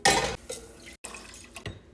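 Water pours into a cooking pot for rice, starting with a loud splashing gush, then a steadier trickle that breaks off briefly and resumes, ending with a small splash.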